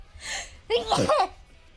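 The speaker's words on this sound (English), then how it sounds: "I sneezed." A single close sneeze starts with a sharp intake of breath and ends in a loud burst, heard alone with nothing else around it.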